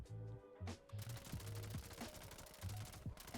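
Rapid automatic gunfire in Fallout 76 aimed at an infestation boss, short stuttering bursts of shots repeating in quick rhythm, fairly quiet in the mix.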